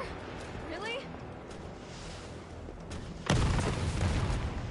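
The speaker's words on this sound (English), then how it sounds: "Rocket launcher? Really?" A rocket launcher explosion in Resident Evil 3 Remake: one sudden loud boom hits partway through and leaves a heavy rumbling tail, following a quieter stretch of game ambience.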